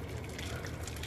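Hot water poured from a kettle into a pan of stuffed peppers, a steady close splashing gush with no breaks.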